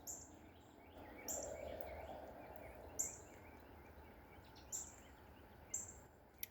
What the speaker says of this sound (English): Do y'all hear those birds?